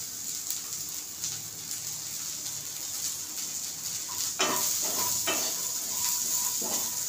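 A bowl of green peas dry-roasting in a pan gives a steady, close sizzle. Louder scraping stirs come in bursts during the second half.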